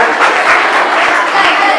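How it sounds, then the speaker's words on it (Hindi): Applause for children at a life-changing seminar in a school hall, a steady dense clatter of many hands throughout, loud and close, with a voice faintly mixed in. "जोरदार ताली आपने लिए"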